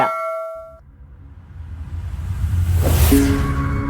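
A notification bell sound effect rings out with a sharp bright ding and ringing overtones at the start, fading into a rising whoosh that swells and brightens near the end.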